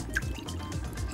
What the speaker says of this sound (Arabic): احط فيها اول حاجه زيت الزيتون، وهنزل كل التتبيله بتاعتي